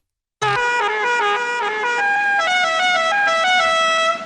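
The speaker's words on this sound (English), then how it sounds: "Honk that horn over and over again." A loud air horn blasts continuously for about four seconds, its stacked harmonic tones shifting pitch several times in a steady, sustained honk with no talking.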